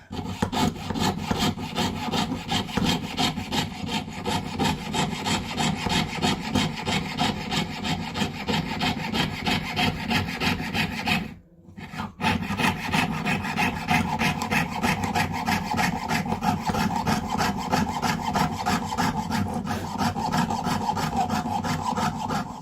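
A saw blade cuts through a stacked double layer of metal sheet in a steady, continuous rasping stroke rhythm, close and loud, with one brief pause partway before the cutting resumes.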